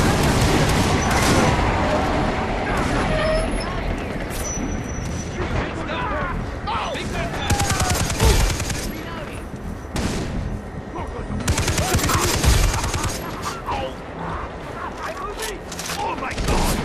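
Rapid automatic gunfire and heavy bursts rattle almost continuously in a Far Cry 3 co-op firefight, loud and dense with occasional booming impacts, while voices shout over the shooting.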